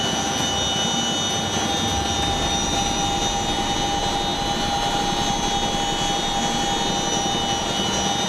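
An F-35A fighter jet gives off a continuous, loud, broadband engine roar with a steady high whine running through it. The noise stays even and unbroken throughout, with no voices.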